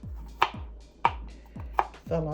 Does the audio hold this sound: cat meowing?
no